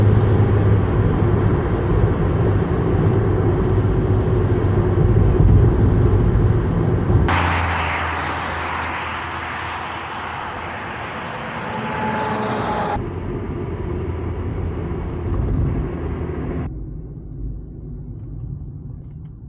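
A car cruises along US 30 across Ohio with a steady, loud road and wind rumble. The tone shifts a few times as it drives on, and no one speaks.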